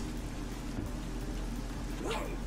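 Steady rain hiss in the video game Treasure Adventure World fills the scene, a constant wash of patter with a few faint distant thumps and a brief rising tone near the end.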